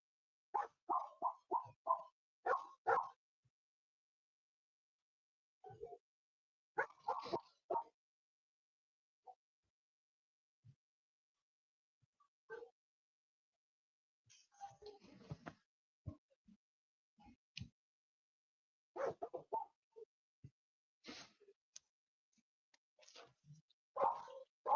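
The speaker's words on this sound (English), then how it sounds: "I hear them dogs barking." Dogs bark in the distance in short, faint clusters, with several volleys of yelps separated by long quiet gaps.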